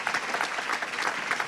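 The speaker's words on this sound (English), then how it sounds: "And yes, a round of applause." A conference audience claps in a dense, steady round of applause for a panel on the future of work. The clapping is close and sustained with no pauses.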